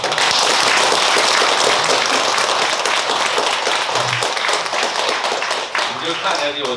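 A lecture audience breaks into loud, dense clapping that holds for several seconds before thinning out, with a brief voice heard near the end.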